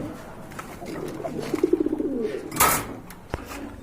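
A pair of red Maxi Racer pigeons coos close by, one rising, pulsing call of several quick throaty beats in the middle, followed by a brief rustle and a sharp knock.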